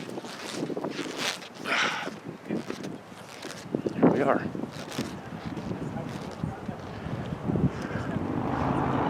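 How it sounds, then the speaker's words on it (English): Steady wind gusting across the microphone with rumbling buffeting on a granite summit at Sonora Pass, while a person talks over it outdoors. "A little windy and breezy up here, but not bad."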